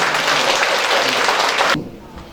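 Audience applause at a Korean elderly care group-home federation unification launch ceremony, a dense steady wash of clapping that cuts off sharply near the end, leaving a quiet room.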